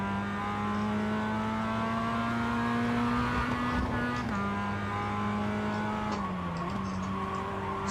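A Mazda MX-5 race car in iRacing holds a steady, droning engine note, with pitch shifts and brief dips as it works through the gears, loud and close without any talk.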